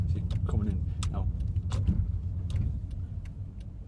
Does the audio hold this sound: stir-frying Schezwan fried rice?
no